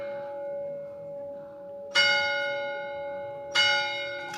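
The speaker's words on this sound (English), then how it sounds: "Church bells, measuring device, it's all happening all in one go." Church bells ring from a nearby church in a valley in Abruzzo, Italy. Two loud, resonant strikes arrive about a second and a half apart, each leaving a long ringing hum that lingers beneath the next.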